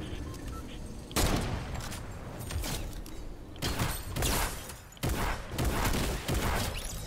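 Gunfire in a shooter video game: several loud bursts of shots, each ringing out and fading, with mechanical clanks and creaks in between and no talk.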